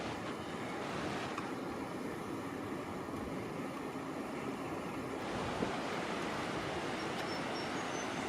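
Surf washing onto the beach at Lincoln National Park on the Eyre Peninsula, a continuous broad roar of breaking waves mixed with wind buffeting the microphone, with no one speaking.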